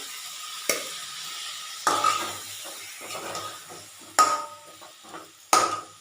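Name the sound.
spice masala frying in a pan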